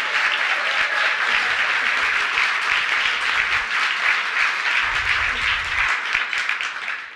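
At an Emancipation Day breakfast, a crowd gives Congressman James Clyburn of South Carolina a full, continuous round of applause, loud and even throughout, tapering off at the end.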